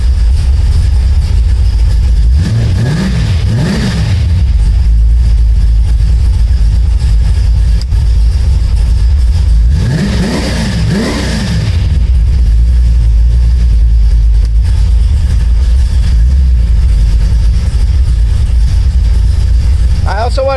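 Someone starts a 1972 Oldsmobile Cutlass that now runs an electric fuel pump. Its V8 cranks over and settles into a loud, deep, rumbling idle with a couple of brief revs, and a person talks over the engine.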